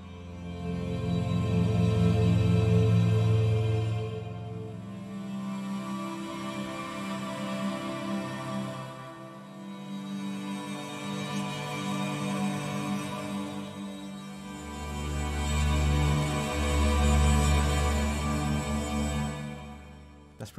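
Audio Brewers Peace sordino and arcs string patches layered together swell in slow, sustained orchestral chords, rising and fading in long waves, soft and without voices.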